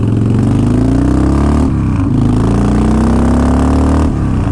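A 2005 Harley Davidson Wide Glide with ape hanger bars on a test ride, its engine running loud and close with a steady, throaty drone that dips and climbs briefly as the throttle shifts.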